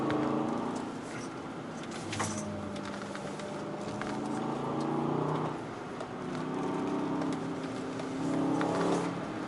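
Aston Martin DBX 707 SUV driven fast, its engine a steady loud drone that rises and falls with acceleration, carrying on continuously underneath.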